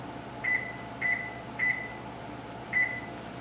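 An oven timer being set gives four short, clear electronic beeps, the first three evenly spaced and the last after a pause, over a steady background hum of a home kitchen.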